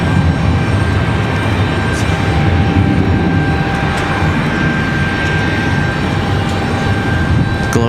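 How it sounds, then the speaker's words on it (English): A loud airliner departing Raleigh-Durham airport on a windy day, its jet engine roar steady and broadband throughout, with a thin whine riding on top and no talk over it. "Man, that was a loud departure."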